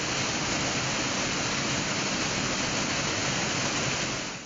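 A waterfall fed from the Rwenzori Mountains in Uganda pours in a steady, dense broadband roar, close and loud, continuous throughout with no voices.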